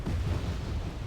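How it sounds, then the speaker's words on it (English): HE artillery fire in Wargame Red Dragon gives a short, heavy, rumbling boom, low and loud, with no voices over it. "More HE artillery coming in."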